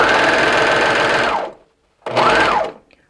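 A sewing machine stitches elastic onto a leotard in two quick bursts, a rapid mechanical whir that winds down as the first run stops, then a brief pause before a second, shorter run speeds up and winds down again.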